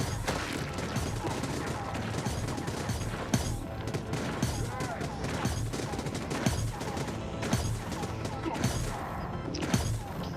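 Repeated gunshots from the player firing in a space video game crackle through a dense stretch of effects, steady bursts with a few sharper cracks standing out, and a voice talks intermittently.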